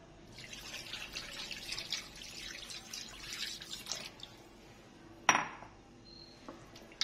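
Water pours and drips into a bowl of raw chicken with vinegar and salt in a home kitchen, a soft trickle with light clinks of dishes, ending in a brief louder splash and clatter near the end.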